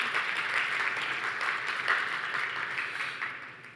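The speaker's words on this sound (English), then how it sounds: "maybe give them a round of applause" A room full of attendees gives event organizers a steady round of applause. It is a dense, even wash of clapping that holds for several seconds and tapers slightly at the end.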